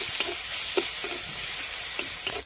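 Grated garlic dropped into hot oil with cloves, cinnamon, cardamom and cumin, sizzling steadily and close, with a few soft stirring scrapes over a short stretch.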